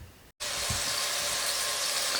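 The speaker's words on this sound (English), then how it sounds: "So let's let this sizzle around and we'll be back." Steady, bright sizzling of vegetables for zucchini soup frying in a hot pot, continuous and close, after a brief quiet gap at the start.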